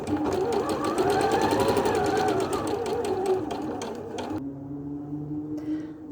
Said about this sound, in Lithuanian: Siuvu 5 mm nuo krašto ir dar kartą primenu, kad čia yra geroji audinio pusė.